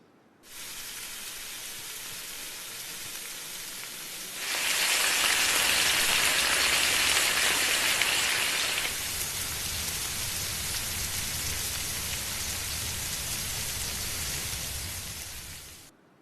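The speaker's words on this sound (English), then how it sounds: "I've added the sound of bacon frying" Steady broadband sizzling and crackling, like bacon frying in a pan, close and continuous, growing brighter and louder for a few seconds midway.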